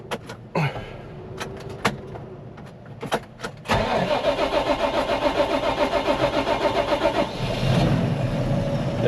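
A farm vehicle's engine cranks briefly after a few scattered knocks, then catches and runs with a steady, rhythmic mid-pitched chug that stays loud and close, used while finishing a potato planting.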